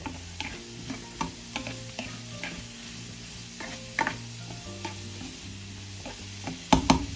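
Broccoli cheese soup is stirred in a pot with a utensil, giving soft irregular scrapes and light clinks against the pot over a faint simmer, with a sharper clatter near the end.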